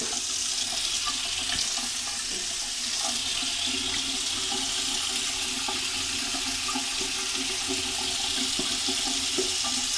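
A plunger works water in a toilet, giving a steady, continuous churn of rushing and gurgling water with faint splashes, close and moderately loud throughout, with no talking.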